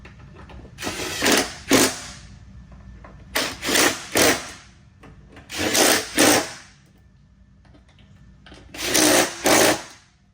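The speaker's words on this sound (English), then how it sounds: "we're gonna tighten them up with our quarter drive impact" A quarter-inch drive impact driver tightens bolts on an electric deck motor of a Cub Cadet zero-turn mower, firing in four separate bursts, each a quick double or triple rattle of hammering, with quiet pauses between.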